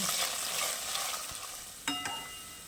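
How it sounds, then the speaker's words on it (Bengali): Oil sizzles steadily as carrots fry in a pan, with a couple of light clinks of a utensil stirring. "দিয়ে দিয়েছি গাজর, এই গাজরটাকেও ভেজে নেব"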